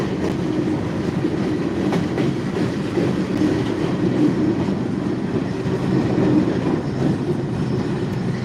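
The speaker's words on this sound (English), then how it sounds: "We're coming to the end of the train now." A long train passes close by with a continuous rumbling clatter of wagons on rails, steady in loudness throughout and with no voices.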